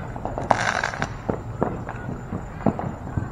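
Fourth of July fireworks popping off nearby, a string of sharp irregular cracks and bangs of varying loudness over background noise, some close and punchy, others fainter.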